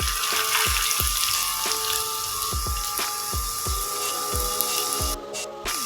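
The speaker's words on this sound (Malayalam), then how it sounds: "ഇനി ഈ ഒരു എണ്ണയിലേക്ക് തന്നെ നമുക്ക് 1/2 കപ്പ് ഇഞ്ചി അരിഞ്ഞത് ചേർത്ത് കൊടുക്കാം." Half a cup of chopped ginger frying in oil for a chicken pickle: a steady, close hiss and sizzle runs throughout, broken by repeated soft popping ticks.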